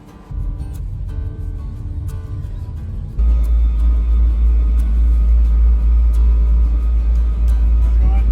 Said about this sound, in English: all the cars are just coming off the ferry now